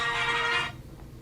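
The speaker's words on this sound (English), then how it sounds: "And I'm going to answer the phone." A phone rings with a bright electronic tone for about half a second, then cuts off, leaving quiet room noise.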